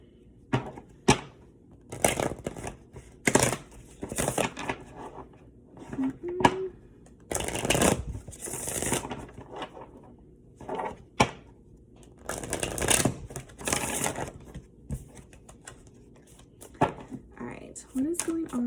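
A Mermaid Tarot deck is shuffled by hand, giving repeated bursts of riffling card flutter and soft slaps in uneven rhythm, close up, with a voice talking in between.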